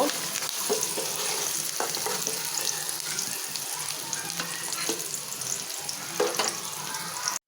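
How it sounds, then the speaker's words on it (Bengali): Steady, loud sizzling of onions frying in hot oil with occasional stirring scrapes, continuous throughout and ending abruptly. "তেল গরম হওয়ার পর আমি দিয়ে দিচ্ছি পিঁয়াজ"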